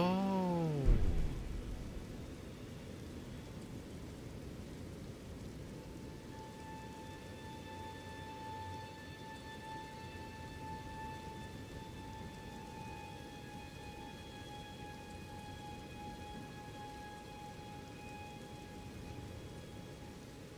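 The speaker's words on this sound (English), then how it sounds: "I can't just pass the time here waiting for it to stop raining." Steady rain falls in the video game Elden Ring as an even, hissing wash that runs throughout, with a short low thud near the start and faint sustained tones drifting overhead.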